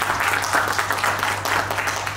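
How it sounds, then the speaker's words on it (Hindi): An audience at an indoor event applauds to welcome guests, with dense, steady clapping from many hands, fairly loud and sustained through the whole moment. "तालियों से आपका भी अभिनंदन।"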